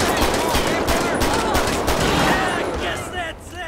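Rapid pistol shots in GTA V crack out in a dense, uneven burst, loud and close, with a few more scattered shots trailing off toward the end.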